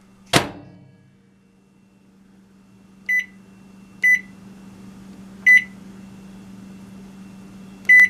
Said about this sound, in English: And then back into the microwave.